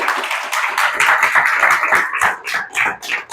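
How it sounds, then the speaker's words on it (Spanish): A church congregation claps together in a dense, steady burst of applause, loud and close, with scattered individual claps standing out. "Da un aplauso al Señor ahí donde estás."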